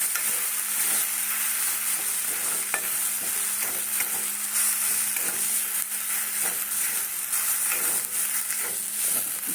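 Chili chop mixture sizzling and frying in a pan with coriander leaves stirred in, a continuous loud hiss with scattered scraping stir sounds and no talk.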